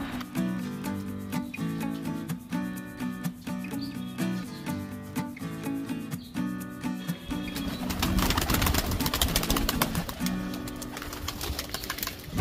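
Pigeons let out of a box coop, fluttering and shuffling near with faint coos; a steady music bed runs throughout, and a louder burst of wing flapping swells toward the end.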